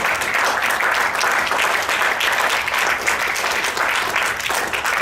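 Audience applause for speaker Nick Arnett at a National Speakers Association meeting, a dense, steady wash of many hands clapping that stays loud for the whole stretch.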